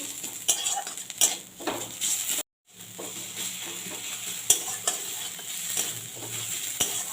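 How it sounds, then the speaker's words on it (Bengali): Ginger, garlic and chilli paste fries in a pan for a Bengali taro curry, with a continuous sizzle under repeated sharp clinks and scrapes of a metal spatula against the pan and a brief pause midway. "এবারে দিয়ে দিচ্ছি আদা রসুন লঙ্কা বাটা এটাকে যতক্ষণ না কাঁচা গন্ধটা যাচ্ছে ততক্ষণ আমি ভেজে নেব"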